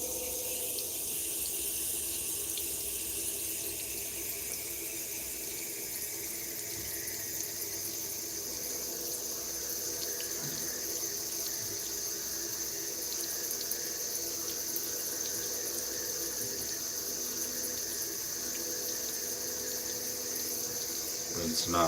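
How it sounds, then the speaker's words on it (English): Tap water runs steadily into a sink for over twenty seconds as items are rinsed off, a constant close hiss with no talk over it. "Rinsing off stuff."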